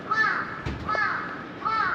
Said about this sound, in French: Il y a beaucoup de corbeaux ici.